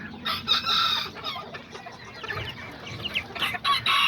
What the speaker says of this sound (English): That's my little tiny little rooster.